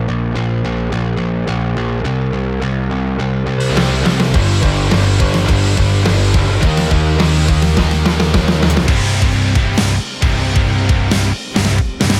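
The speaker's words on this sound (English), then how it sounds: "turn it into a very distorted, but better bass tone that sounds like this." Bass guitar pushed through FabFilter Saturn 2 for heavy distortion, playing a dense, gritty riff alone with sustained low notes, louder and fuller after the first few seconds, with two brief dropouts near the end.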